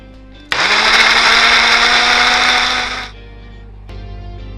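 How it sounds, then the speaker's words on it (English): A kitchen blender whirs loudly at full speed for about two and a half seconds, blending milk with onions and cloves for bread sauce, then cuts out abruptly and leaves a quiet room hum. "But we're going to keep them in and blend it all up."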